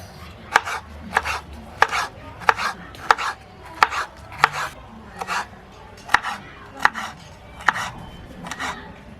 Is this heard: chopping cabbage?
yes